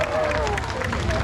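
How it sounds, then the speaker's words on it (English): Audience applause at a Six Flags Discovery Kingdom animal show featuring Siberian tigers, a steady wash of clapping and crowd noise filling the whole moment. "how about a big round of applause for Maxim"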